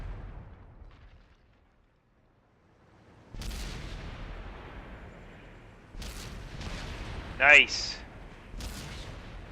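Tank cannon shots in a clan-wars tank video game, several sharp booming blasts a few seconds apart over a quiet battlefield background, with a brief spoken exclamation between them.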